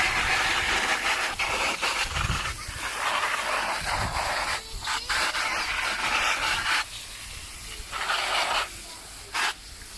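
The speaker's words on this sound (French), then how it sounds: "On ouvre l'eau." Hissing spray from a tap-fed water jet rinsing a robot vacuum's filter, coming in several bursts of broad rushing noise that stop and restart, fairly close and loud.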